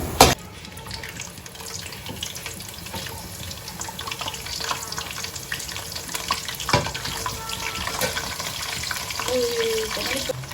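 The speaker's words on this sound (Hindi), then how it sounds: "फ्राई हो गए भल्ले और होगी बल्ले बल्ले।" Bhalle, lentil dumplings, frying in hot oil in a home kitchen, a steady close bubbling hiss with a clatter at the start, some spoon and vessel noises, and faint background voices.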